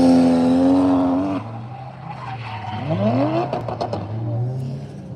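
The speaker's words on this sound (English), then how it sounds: "Oh, it's a misshift." Drift car at Ebisu Circuit, Japan, loud engine holding a high rev that drops abruptly in a misshift, then sweeping pitch changes and tire squeal as the car carries on.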